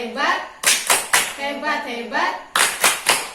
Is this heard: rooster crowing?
no